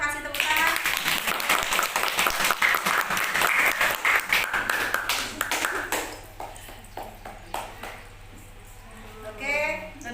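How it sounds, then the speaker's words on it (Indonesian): A classroom of students gives lively applause for their classmates' teaching aids, with brisk, uneven clapping for several seconds that thins out, and a teacher's voice speaking briefly near the end. "Kalau sukses, silakan kasih tepuk tangan yang meriah ya"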